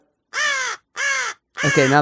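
A crow caws three times in close succession, loud and near, each call a harsh drawn-out rasp, the last one overlapping with a person starting to speak.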